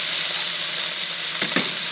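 Mixed vegetables and tomatoes frying in a pan with salt, a dense, even sizzle close by with two brief louder scrapes of stirring near the end.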